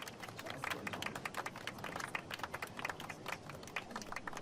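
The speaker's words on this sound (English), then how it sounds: "Clap, clap, clap." A crowd applauds a speech dedicating a Gotham hospital in Batman: The Telltale Series, with dense, steady clapping throughout at moderate level.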